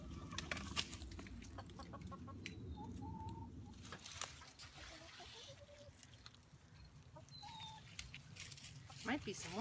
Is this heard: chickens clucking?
yes